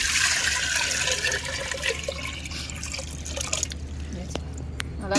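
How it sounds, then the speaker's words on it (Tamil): Water poured from a container into a cooking pot set up for boiling rice, a steady splashing pour with some drips in a home kitchen. "நம்ம உலைக்கு தண்ணி ஊற்றுறோங்க"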